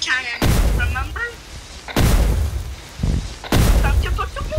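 Three heavy, booming auto cannon blasts in Roblox BedWars fire a couple of seconds apart, each with a long rumbling decay, while brief voices and game sounds sit in between.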